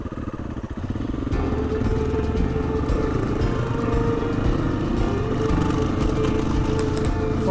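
A motocross bike rides over rocks on a UK trail. The engine runs steadily and fairly close, with rough clattering over the stones throughout and no talk.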